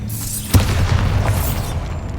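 Bombarda explosion spell in Hogwarts Legacy, a sharp close blast with a low rumbling body that swells and decays over about a second and a half, with a brief burst of debris.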